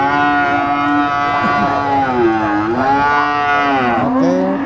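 Cattle mooing at a busy cattle market in Ngawi, East Java: a loud, sustained low bellow close by, with a second animal joining near the end over steady market background noise.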